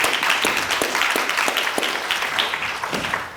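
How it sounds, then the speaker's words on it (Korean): Audience applause at a parliamentary suicide-prevention forum seminar in a hall, a dense steady wash of many hands clapping for over three seconds at fairly loud level, with no talk over it. "큰 박수 부탁드립니다"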